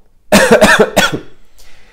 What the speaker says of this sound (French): Excuse-moi, je tousse, mais c'est une allergie